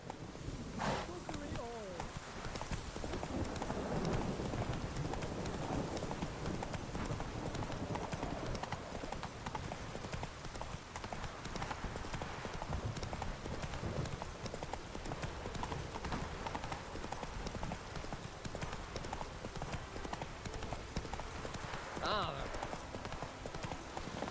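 In the video game Witcher 3 a horse gallops, and the quick steady clip-clop of its hooves runs nonstop at moderate level under speech and game sound.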